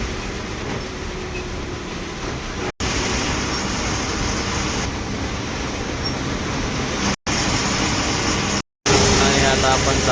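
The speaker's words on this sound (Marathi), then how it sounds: "आणि आता आपण पोचलेलो आहे आपल्या बस जर्नी मधल्या दुसऱ्या टोल प्लाझाला" Traffic rumbles at Khalapur toll plaza on a night MSRTC bus journey. A continuous broad road noise and engine hum sounds from inside the moving bus, with a few very brief dropouts.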